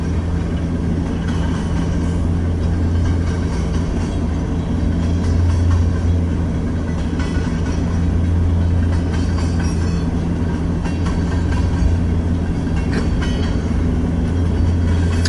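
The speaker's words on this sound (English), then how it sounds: "And this train is heading west" A westbound freight train with CITX and MILX coal cars rolling past on the Transcon line in Fremont, Nebraska, a loud, steady, continuous rumble and rattle of wagons held at close range throughout.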